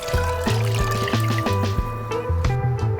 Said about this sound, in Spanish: Ahora vertemos 2 litros de caldo de pollo o agua.